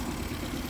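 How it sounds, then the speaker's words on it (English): A 2021 Mercury 9.9hp long-shaft four-stroke outboard idling steadily out of gear, a low even engine drone close by with no talking. "the engine's running perfectly fine"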